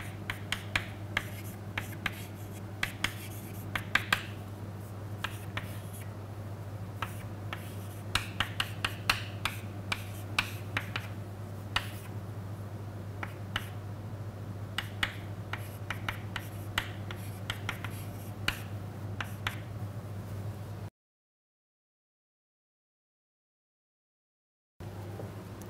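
Handwritten equations going down on a slate or pad during a lecture on the quantum mechanics of EPR, with steady light scratching and tapping strokes over a constant low hum and no talk, then a short gap of silence near the end.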